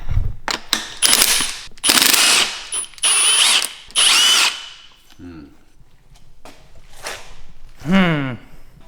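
A ratchet wrench torques the shock absorber bolts on a Golf Mk7 Sportwagen during a Bilstein B8 shock upgrade. It gives several bursts of rapid, close clicking separated by pauses, followed by a few softer clanks and scrapes.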